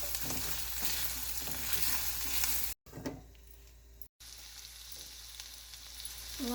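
Cut jackfruit seeds fry in a pan for a brinjal curry, giving a steady close sizzle with stirring scrapes, interrupted by two short cuts to silence before the frying resumes more quietly.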